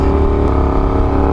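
Rumbling exhaust of a Suzuki SV650S motorcycle while riding, a loud, steady engine drone with strong low harmonics heard up close and alone.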